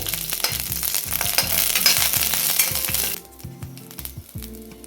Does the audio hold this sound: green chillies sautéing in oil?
yes